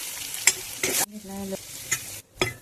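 Soaked chana dal sautéed with hing and garlic in a pan, heard as short bursts of sizzling and stirring scrapes, close and fairly loud, broken by brief gaps.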